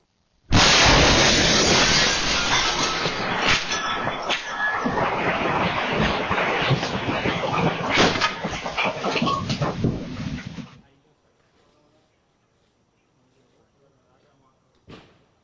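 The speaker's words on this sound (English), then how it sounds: "this dramatic security camera footage of the exact moment the explosion happened" A house explosion recorded by a security camera in a north St. Louis County subdivision: a sudden loud roaring blast followed by about ten seconds of sustained rumbling and crashing debris, then near silence with one faint late thump.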